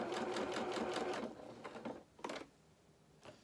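Home sewing machine stitching doll dress fabric in a fast rhythmic whir of needle strokes that slows and stops, followed by a few short bursts of stitching, fairly close and quiet.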